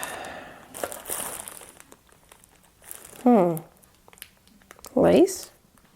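Plastic bags full of zippers rustle and crinkle in brief bursts, with a couple of sharper crinkles. A voice speaks between the handling sounds.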